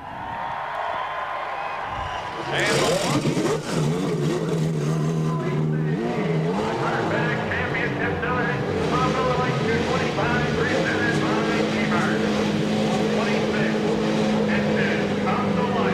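CART race cars at the 1999 round on the Milwaukee Mile oval: after a couple of seconds of quieter ambience, engines roar to life in a loud, sustained, layered blare, with voices mixed in throughout.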